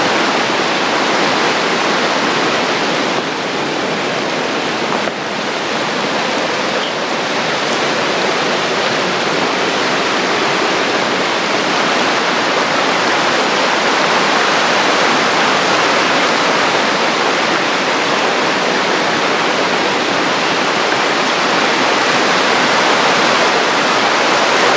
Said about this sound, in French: Le bruit de la rivière c'est terrible.